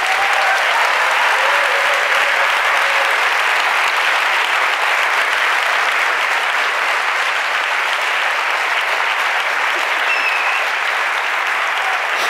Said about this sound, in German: Du merkst es am Applaus